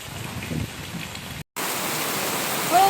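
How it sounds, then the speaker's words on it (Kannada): Heavy rain pours down in a steady, dense hiss, broken by a brief cut to silence before resuming just as strong. "ಮಳೆ ಅಂತೂ ಜಪ ಜಪ ದಪ ದಪ ದಪ ದಪ ದಪ ದಪ ದಪ ಅಂತ ಫುಲ್ ಬೀಳ್ತಾ ಇದೆ"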